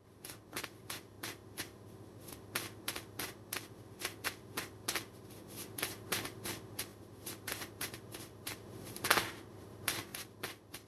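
Tarot cards are shuffled up close in quick, crisp riffles and flicks, repeating in short bursts for about eleven seconds with one sharper snap near the end.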